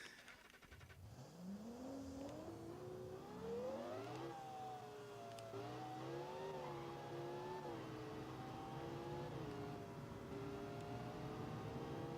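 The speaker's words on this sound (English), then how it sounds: "I'll do a top speed run along the highway there just so you guys get an idea" Supercar in the BeamNG Drive video game accelerating hard on a highway top speed run, engine note climbing loudly through several gear changes and holding a high steady whine, close and continuous with no talking.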